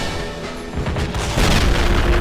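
A deep, rumbling boom swells in a toy war battle game on a fortress hillside, building to a loud sustained blast heard up close without talk.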